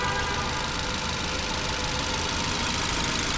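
A 2016 Ford Focus SE with front-wheel drive idles in a steady, even engine rumble with a fine mechanical ticking, close and constant throughout.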